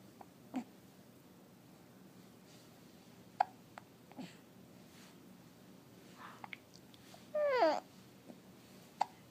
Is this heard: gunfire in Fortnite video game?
no